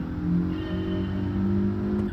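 A Mitsubishi Lancer in Gran Turismo 7 holds a steady engine drone with a faint tonal whine and mild pitch swells as revs rise and ease. It sounds clean and alone at moderate level.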